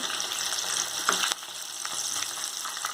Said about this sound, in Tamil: நல்லா வெந்துடுச்சுன்னா இந்த சலசலப்பெல்லாம் அடங்கிடும்.